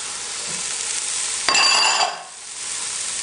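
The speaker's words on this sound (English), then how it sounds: "So I'm going to cook my beef and my onion." Beef and onion frying in a pan for an Arabic green bean stew, a steady sizzle that jumps louder with a sudden clink and stirring burst partway through, then eases back to a softer hiss.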